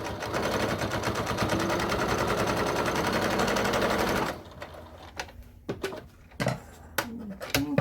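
A sewing machine stitches along the bottom of a wallet pocket in a fast, loud, continuous run that stops abruptly midway, followed by quieter clicks and handling noises close by.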